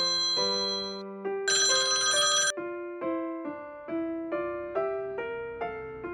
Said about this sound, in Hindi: पुलिस स्टेशन में सुबह सुबह फोन की घंटी बजने लगी